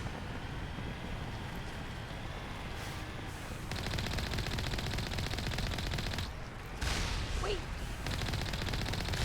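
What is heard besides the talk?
gun firing repeatedly until overheating, from a video game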